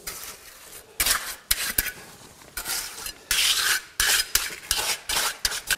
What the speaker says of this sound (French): On recouvre la gaine électrique de béton.